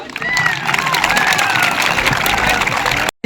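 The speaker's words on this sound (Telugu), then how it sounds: "అందరూ కూడా ఒకేసారి గట్టిగా క్లాప్స్ కొట్టండి." Students at an anti-drug awareness school event clap together in a dense, loud burst of applause mixed with crowd noise and cheering, cutting off abruptly just before the end.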